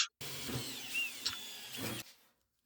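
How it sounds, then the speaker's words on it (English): A power drill bores holes for drain covers through a new floor pan on a 1964 Chevrolet Impala SS, a steady whirring burst lasting about two seconds, close and fairly quiet, with no talking. "Okay, drilling the holes"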